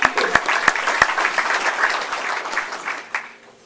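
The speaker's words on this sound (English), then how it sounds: "I'll have applause for them." Audience applause at a high school hall of honor award ceremony, a steady crowd of clapping hands that gradually fades out over a few seconds.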